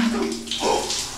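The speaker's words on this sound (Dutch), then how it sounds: "Iets kouder douchen." Shower water running in a short burst, a close, hissing spray with a faint tonal hum under it, no voices.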